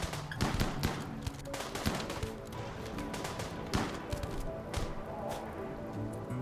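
Rapid bursts of gunfire in RimWorld as colonists shoot at each other, dense overlapping cracks and volleys in irregular clusters across the whole stretch, loud and close.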